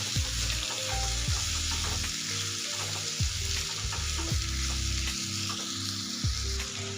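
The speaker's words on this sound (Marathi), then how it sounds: "जे कारले आपण वाफवून घेतले होते हे आता याच्यामध्ये टाकून घ्यायचे आणि मीडियम गॅसवरती आहेत ना परतून घ्यायचं" Steamed bitter gourd sautés in masala in a pan over medium heat, giving a steady close sizzle and frying crackle with occasional stirring scrapes throughout, alone with no talk.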